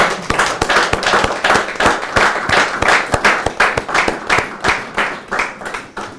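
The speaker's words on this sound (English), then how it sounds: "I think he deserves a round of applause" An audience claps for a testimony, many hands striking in a brisk, fairly regular rhythm of sharp individual claps, loud and close, with no talking over it.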